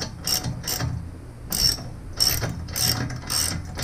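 A ratchet wrench loosening a 15 mm bolt on a Jeep TJ, with a string of close, crisp clicking pawl bursts in an irregular rhythm over a low background rumble.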